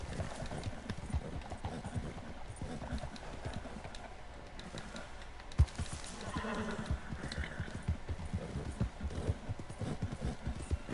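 A ridden horse in Red Dead Redemption 2 trots with steady, close clip-clopping hooves, the rhythm broken briefly by a sharp knock midway, with faint low background sound underneath.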